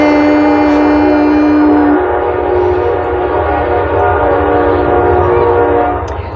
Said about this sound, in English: if that train did not come through here busting a move